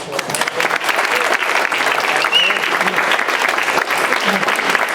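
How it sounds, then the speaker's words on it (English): An audience at a longsword demonstration during an open house claps steadily and fairly loudly throughout, a dense continuous round of applause with faint crowd murmur underneath. "Let's give her another round of applause."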